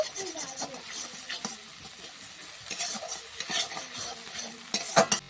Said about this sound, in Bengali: ভালো করে মশলাটা কষিয়ে নিতে হবে।